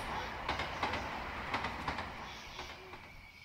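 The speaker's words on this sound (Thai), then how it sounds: "รถไฟอะไรโผล่มาตอนนี้วะ" A train rumbles past in the horror game Yomawari: Night Alone, a steady rolling roar with repeated clacking wheel beats, fairly close and with no voices over it.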